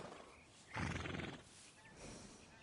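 Horse in Red Dead Redemption 2 giving a single loud, close whinny with a short snort afterward.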